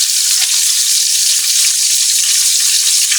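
Saluyot (jute leaves) sizzling and frying in a pan, a steady, close, loud hiss with faint stirring underneath and no talking.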